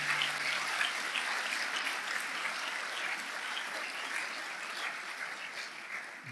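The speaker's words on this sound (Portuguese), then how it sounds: "Alguém aplaude o Senhor bem forte." Church congregation applauding steadily and strongly for several seconds, a dense, even wash of clapping that tapers slightly at the end, with no talk over it.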